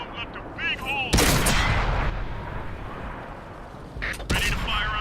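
Tank cannon shots in World of Tanks, a T21 American light tank battling: two loud, sharp broadband blasts with rumbling tails, the first long and booming, the second shorter, over game ambience and clanks.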